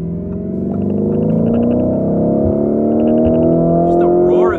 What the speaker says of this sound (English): Just the roar of the engine. It's a twin turbo, but it almost sounds naturally aspirated.